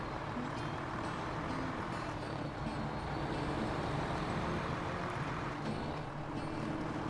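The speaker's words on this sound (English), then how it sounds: "Listen to that engine." Heavy truck engine in the off-road driving game Snowrunner, a deep, steady loud rumble with a continuous low growl that holds throughout, no talk over it.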